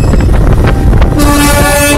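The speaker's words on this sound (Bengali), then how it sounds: "এই দেখো টয় ট্রেন" Darjeeling toy train rolling past on its narrow-gauge rails, a loud close rumble of wheels and engine, with a sustained horn toot sounding in the second half.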